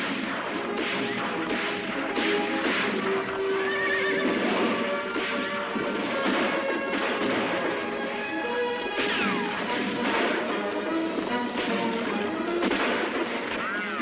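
Horses galloping and neighing in a western film, with busy hoofbeats, repeated whinnies, whip cracks and crashing action sounds mixed together at close range throughout.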